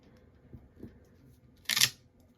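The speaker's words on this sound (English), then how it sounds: "Nice sticky sound for sticky ink." A soft tap or two, then a short sticky press-and-peel sound of a rubber stamp lifting off card, close up and quiet.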